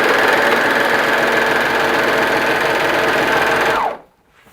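Sewing machine running steadily as elastic is stitched onto leotard fabric, a loud continuous motor whir with a fast needle rhythm that stops abruptly near the end, leaving near silence.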